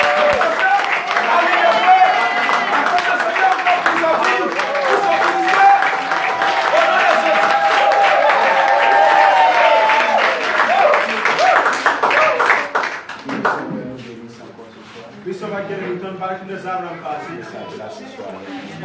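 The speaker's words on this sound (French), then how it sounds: "Et c'est sous vos acclamations." A large worship congregation applauds and cheers loudly and continuously, dense clapping and shouting that fills the space for several seconds before dropping off sharply near the end.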